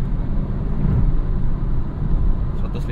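A 2015 BMW 320i M Sport F30 cruises fast along a toll road, its steady engine and road rumble droning loudly from inside the cabin without pause.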